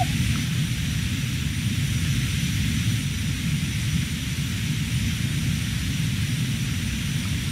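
A Fouga Magister jet's engine roars at full throttle during a climb in flight from Ambérieu toward Annecy, a steady, loud, unbroken cockpit drone with no voices.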